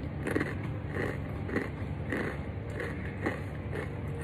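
Crunchy murukku, a traditional Indian snack, bitten and chewed up close, giving repeated crisp crunches at a steady rhythm of about one every half second.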